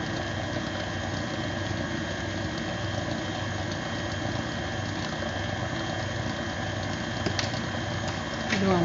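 A stand mixer whirs steadily through cake batter, a continuous mechanical hum with a faint ratcheting edge that holds even for nearly nine seconds, ending in a small clatter.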